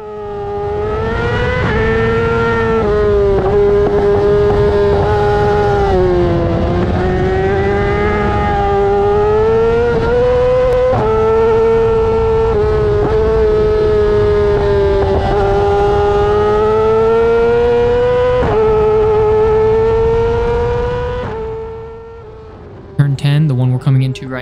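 A Yamaha R6 sportbike races a Kawasaki ZX6R on the Podium Club track, the inline-four screaming loud and near at high revs with dips and rises through gear changes, then cutting off near the end.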